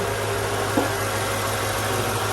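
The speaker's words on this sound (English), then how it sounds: "Here's the engine running." A 2003 Mercedes SL500 R230 with a Kleemann supercharger idles steadily nearby, a constant low rumble with a faint high supercharger whine layered on top and no voices.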